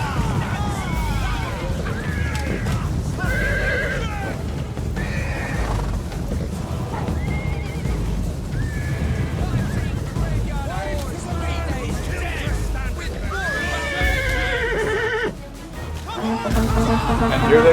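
Horses of charging Polish knights in the medieval strategy game Medieval Kingdoms Total War 1212AD neigh and whinny repeatedly over a constant rumble of hooves and battle noise. The sound is dense and continuous throughout.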